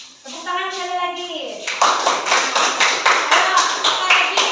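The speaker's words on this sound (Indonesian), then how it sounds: "Tepuk tangan sekali lagi." Primary school pupils in a sixth-grade classroom break into a burst of rhythmic group hand clapping, close and lively, right after someone speaks.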